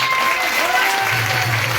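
A crowd at a business motivational event applauds in a loud, dense, continuous burst, with a voice speaking over the clapping.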